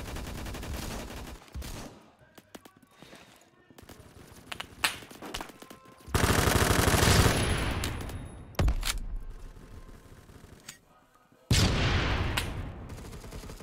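K2 assault rifle fire in the first-person shooter Phantom Forces, sharp bursts of automatic gunshots in several loud clusters with quieter gaps between, some distant shots and footsteps in the background.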